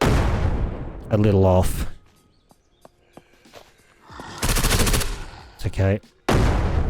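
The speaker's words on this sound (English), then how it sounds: "Hopefully, I can hit them with this nade if I do this in the right spot." In the zombie survival game Surroundead, grenades burst in loud, broad blasts separated by quiet gaps with faint clicks, and someone talks briefly between them.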